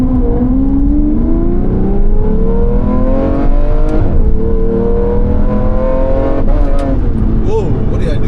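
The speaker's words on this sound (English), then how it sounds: "Oh, I hit the I hit the rev limiter." A car engine revs steadily upward in pitch inside the cabin, loud and continuous, with a few sharp dips where it bounces off the rev limiter before climbing again.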